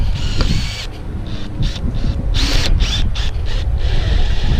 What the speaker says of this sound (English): we'll want the screws up about 1 inch again. Just run them down in.